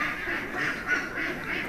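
Ducks on a duck farm quack in a dense, overlapping chorus, nasal calls running continuously at moderate distance with no one talking.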